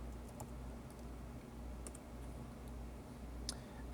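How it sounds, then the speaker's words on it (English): Keys on a computer keyboard being typed in quick, light clicks while a command is entered in a terminal, fairly faint over a steady low hum, with no talking. "in your terminal, you can type in"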